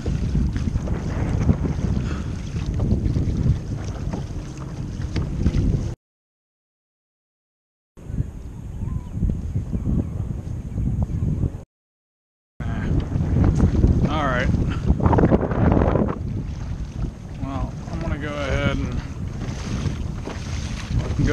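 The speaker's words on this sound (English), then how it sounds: "So, this is crossing a fairly choppy channel." A small boat crosses a choppy channel in strong wind, with continuous loud roaring wind and water rush and a steady engine drone. The sound cuts out twice, and someone talks over it.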